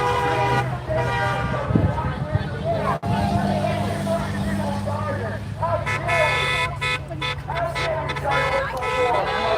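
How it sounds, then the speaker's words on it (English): Repeated car horns honk along a busy street at an outdoor gathering, with long toots and blasts overlapping one another over steady crowd babble and traffic noise. "Listen to all the horns honking."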